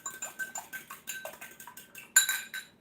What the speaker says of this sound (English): And we'll just get a fork. Whisk it together